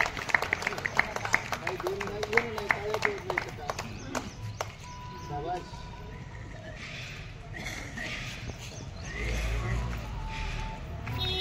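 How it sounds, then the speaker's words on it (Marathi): A group claps in applause at a Samata Sainik Dal training ceremony. The dense, scattered claps are strongest over the first few seconds and then thin out, with a voice talking throughout. "सर्वांनी टाळ्या वाजवा"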